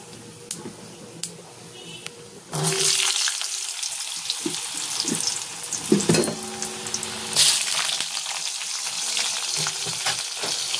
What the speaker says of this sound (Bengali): তা আলুটা ভাজা ভাজা হোক